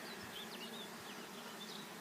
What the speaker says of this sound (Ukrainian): Бджоли працюють